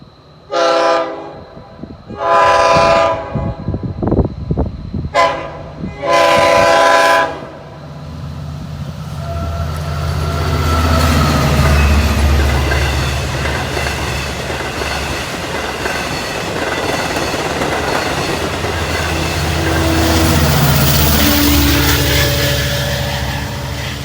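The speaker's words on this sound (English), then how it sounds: "Local train 2782 from Babylon to Patchogue" Several loud blasts of a train horn, then a Long Island Rail Road dual-mode diesel commuter train rumbles and clatters past nearby at Oakdale for a long stretch, its noise swelling and fading.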